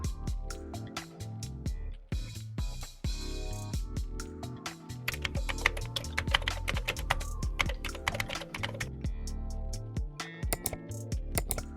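Steady clattering of typing on a computer keyboard, close and fairly loud, with rapid irregular keystrokes and brief pauses continuing throughout, no speech.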